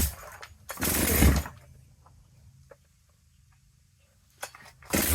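A G888 chainsaw being pull-started with no choke: two loud bursts of a cord pull and brief sputter, separated by quiet with faint clicks.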